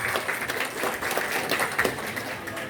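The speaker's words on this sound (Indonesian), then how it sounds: "Tepuk tangan untuk Pak Haji Wagirin Arman Esos." A village audience at a legislator's recess meeting in Klambir V applauds, producing a continuous, moderately loud crackle of many hands clapping together without pause.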